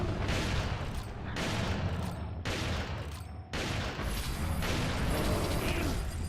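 Dense video game gunfire, a continuous loud barrage of shots broken by a few brief gaps.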